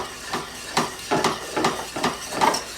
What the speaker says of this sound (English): I'm putting some force behind the whisk so that as I'm rubbing the bottom of the pan, the lumps are breaking up.